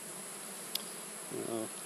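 Bees hum softly around an open hive, a low steady drone with a brief louder buzz as one passes close, plus a faint click.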